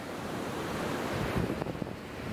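Sea waves roll in on the beach at Boca de Uchire, Venezuela, a steady roaring wash with wind buffeting the microphone and a surge building midway, with no talk.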